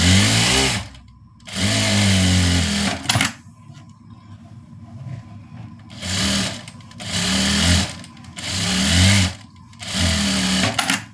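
An electric sewing machine stitching the sleeve of a churidar, running in several loud bursts of a second or two each with short pauses between, each burst a steady buzzing whir close up.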